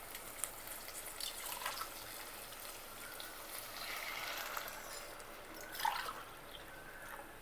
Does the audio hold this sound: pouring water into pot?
yes